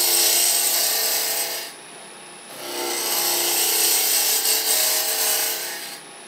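A turning tool shaves milk pear wood spinning on a lathe, giving a steady, loud, broadband scraping hiss that pauses briefly, then resumes for several more seconds before easing off.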